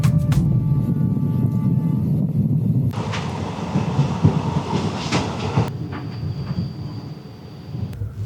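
A passenger train on the line toward Talguppa near Jog Falls in Karnataka rumbles steadily along the rails with faint clickety-clack, heard from inside the carriage as a continuous low drone with occasional rattles and no talking.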